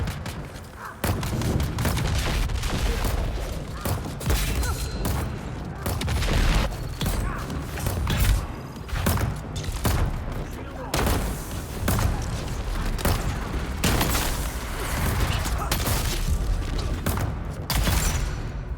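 Rapid bursts of Disruptor Pistol gunfire in a close 1v1 fight in Dune Awakening, duraluminum version against MK6 enemies, with loud dense shots, impacts and booms continuing almost without a break.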